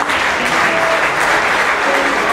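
Sustained applause from a small crowd, a dense steady patter of clapping that holds at an even level throughout.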